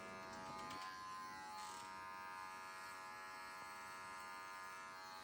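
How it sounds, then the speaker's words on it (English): Electric clippers buzz steadily while shaving hair off a Schnoodle puppy's rear, a close, continuous motor hum with a brief rise in pitch near the start. "Let's shave all this hair off your butt."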